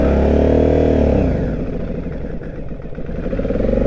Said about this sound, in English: It's decelerating and the rev's dropping off that it doesn't like.